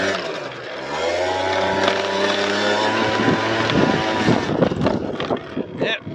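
Piaggio NRG scooter engine revving up as it gathers speed, a steady rising drone with harmonics climbing in pitch, loud and close, with wind buffeting the microphone throughout.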